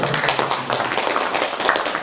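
Applause from an audience welcoming a student from Kyrgyzstan to a presentation on learning Korean with AI; dense, steady clapping that fills the whole stretch at an even level.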